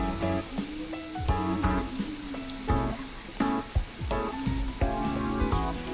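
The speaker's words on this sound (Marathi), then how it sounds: "त्यासाठी आपण तेल सुटेपर्यंत चांगलं परतून घ्यायचं" Thick masala paste fries in hot oil for an Agri-Koli halwa fish curry, sputtering steadily with repeated soft pops and scrapes of stirring over several seconds, up close with no talk.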